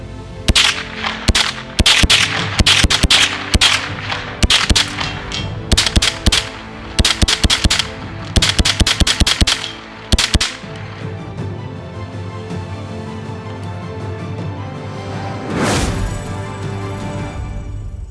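A Tippmann Arms M4 Elite-L Fluted .22 semi-auto rifle fires a long run of sharp, loud, close shots in quick rhythmic bursts over about ten seconds, followed by quieter handling noise and one more crack.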